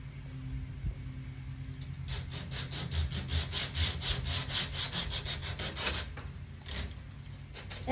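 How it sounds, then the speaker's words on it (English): Close, rhythmic back-and-forth strokes of sandpaper scuff sanding an antique wooden buffet, about a dozen steady rasping passes building in the middle before easing off, with no voices. "Let the sandpaper do its job."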